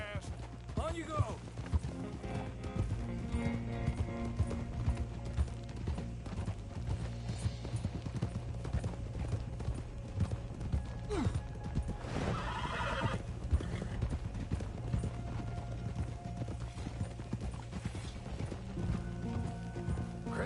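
Horse hooves clip-clop steadily in a western video game near a manor's stables, with whinnies breaking through now and then, under voiced game dialogue and a music bed.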